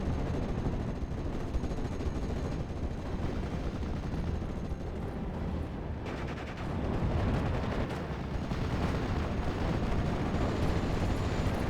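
Artillery barrage in a World War II strategy video game: dense, continuous booming and crackling impacts, loud and sustained throughout, with a brief lull near the middle before the pounding resumes.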